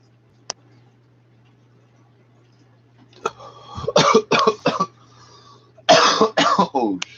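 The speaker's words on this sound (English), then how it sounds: "That's a dry cough." A close, loud dry cough comes in two rapid clusters of short, hacking bursts, preceded by a single sharp click over a low steady hum.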